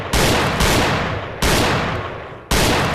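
Loud gunfire from the VR shooting game Gun Club comes in dense, rapid bursts of shots, three to four sustained volleys each cut off abruptly before the next begins, with no voices present.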